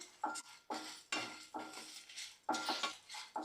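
Meal maker being stir-fried in a pan over a medium flame, with a series of close metallic scrapes and clinks of a spatula against the pan in an uneven rhythm, faint sizzle underneath.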